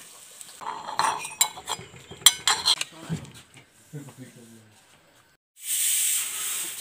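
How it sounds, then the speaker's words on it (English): Food is smashed and stirred together with akuni in a kitchen pot, with rapid clinks and scrapes of utensils against cookware, a few softer thuds, a brief voice, then a sudden loud hiss of steam at the end. "I'll smash this and mix with akuni."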